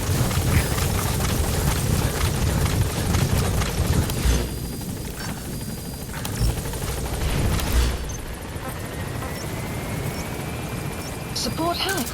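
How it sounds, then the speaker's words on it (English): Support helicopter arriving in Metal Gear Solid V: The Phantom Pain, a loud rotor roar and thumping blades that dominate throughout, with game effects and a radio voice over it. "Support helicopter has arrived."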